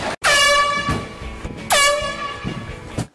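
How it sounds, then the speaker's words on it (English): Two loud, sustained air horn prank blasts, each starting abruptly and holding a harsh, brassy tone for over a second, separated by a short gap, with no talking. "I got mad with the old air horn prank."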